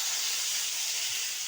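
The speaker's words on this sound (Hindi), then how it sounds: "ये देखिए, मेरी इधर प्याज फ्राई हो गई। मैं बरबट्टी डाल रही हूँ।" Cowpeas tipped into a pan of fried onion sizzle as a steady, bright hiss, close and even throughout the short stretch, with no talking.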